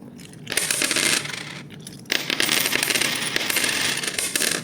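Coins dropping into a piggy bank, each handful landing as a loud, dense metallic clatter and jingle in two bursts broken by a short pause, close up with no talking.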